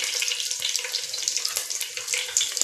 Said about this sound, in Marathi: त्यानंतर आपण मिरची टाकणार आहोत.